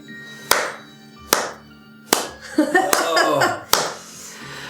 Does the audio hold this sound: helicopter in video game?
no